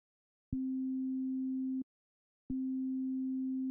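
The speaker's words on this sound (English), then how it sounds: "we can get a sine wave just as easily here by going to our steeper mode" A pure sine tone from a Bitwig Studio synthesizer sounds twice, each a steady low hum of over a second, separated by a short silence.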